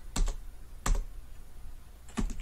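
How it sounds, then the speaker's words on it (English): Three separate clicky keystrokes on a computer keyboard, close and clear, spaced irregularly over a quiet room background with no talking. "as I am typing"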